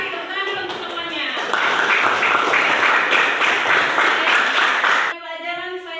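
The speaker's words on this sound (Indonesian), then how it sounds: "Tepuk tangan dulu untuk semuanya." Students in a classroom burst into dense, sustained applause for about four seconds, loud and close. A teacher speaks briefly before and after the clapping.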